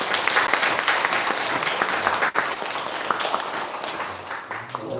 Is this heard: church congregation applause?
yes